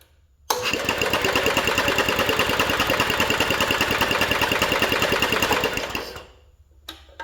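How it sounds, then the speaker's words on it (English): A Simplicity garden tractor engine, fitted with a cheap Chinese carburetor, cranks over for about six seconds as a steady, rapid rhythmic churning that cuts off abruptly, with no talk. "We should be able to crank this over."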